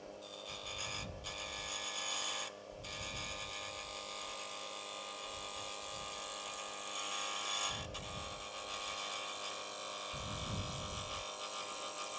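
Wood lathe taking very fine finishing cuts on a wooden toy car, with a steady motor hum and soft scraping pulses from the tool against the spinning wood, close and moderately quiet, no talking.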